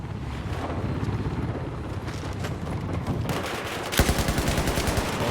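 Light machine gun fire in a Battlefield 4 PC match crackles as rapid bursts of shots under wind-like rumble, rising to a louder, sharper sustained burst toward the end.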